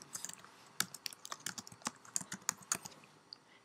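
Typing on a computer keyboard, a quiet close run of irregular key clicks and taps over a few seconds with no talk.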